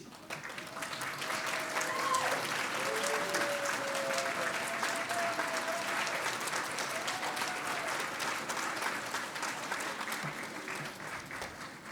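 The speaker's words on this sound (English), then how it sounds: "give them a big round of applause" Sustained applause from a commencement audience for graduates of a traditional Asian medicine program, steady and dense for the full stretch with a few faint voices rising over the clapping.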